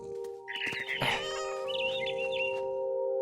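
A cat in the video game What Remains of Edith Finch gives a few short meows close up, over a steady tonal game soundtrack hum.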